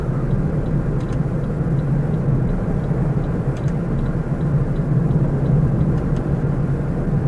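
A car engine runs steadily in fourth gear once the clutch is let out, a continuous low rumble with road noise that holds even and fairly loud throughout, with no voices.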